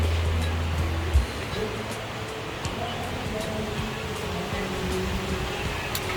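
A river near a bridge on a farm flows steadily, making a constant broadband rushing wash at moderate level with a brief bump early on.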